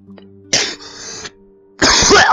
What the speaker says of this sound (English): my throat gets itchy because of the cold that I've got, and then I have to like suffer from coughing 5 hours later